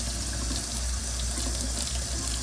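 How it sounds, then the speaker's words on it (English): Hot tap water runs steadily over frozen chicken thighs in a sink, a close, continuous rushing splash with no talk over it. "Just run it underneath the hot water like that."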